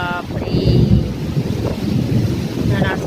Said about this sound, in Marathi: किती प्रचंड प्रमाणात ते वारं आणि पाऊस असेल